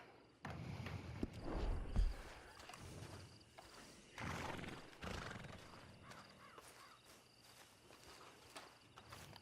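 Horse sounds in the video game Red Dead Redemption 2: hooves clopping and a snort or whinny in a quiet outdoor scene, with birds cawing faintly in the background.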